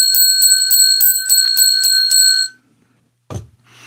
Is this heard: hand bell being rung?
yes